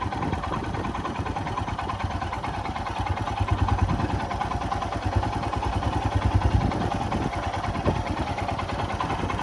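A Royal Enfield Himalayan motorcycle engine putters at low speed over rough, uneven dirt ground, a steady rapid thump with some rattling clatter, close and fairly loud throughout with no talking.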